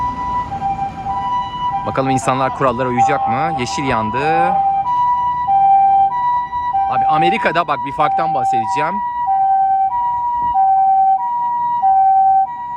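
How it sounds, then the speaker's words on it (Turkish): An ambulance siren wails steadily in a two-tone pattern on a street in Shanghai, China, loud and nearby, while someone talks over it in two stretches. "Bakın ambulans geçiyor şimdi."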